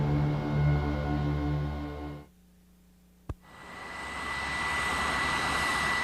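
A Navy A-6 Intruder jet lands aboard an aircraft carrier: a loud roaring engine cuts out, a sharp bang follows after a short near-silence, then the roar builds again.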